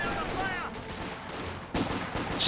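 Rifle and sniper gunfire in Company of Heroes 2, with Wehrmacht and OKW snipers and riflemen trading shots, scattered game shots and battle noise at moderate distance with some talk over it.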